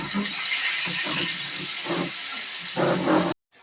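Green chili and garlic paste hits hot oil in a tempering, giving a loud, steady hiss and sizzle with scattered stirring clatter, rising briefly near the end before cutting off abruptly.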